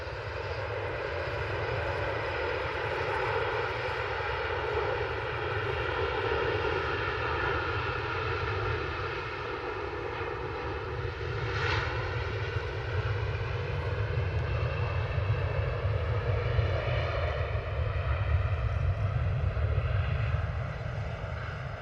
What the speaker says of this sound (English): we have the Virgin A330 now on the roll